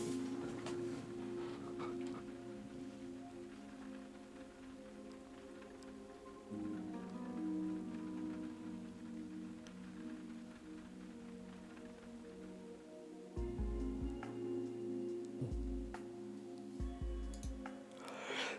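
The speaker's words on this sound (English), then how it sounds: "The sound of the rain on the window faded into nothingness." Rain on a window in the game Witch on the Holy Night: faint, steady patter under sustained low music, with a few soft thumps near the end.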